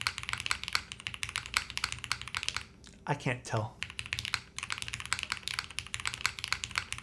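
Rapid, steady clacking of keystrokes on a Matrix MRTAXI mechanical keyboard with its silicone dampening removed, close and continuous, pausing briefly while a person speaks in the middle.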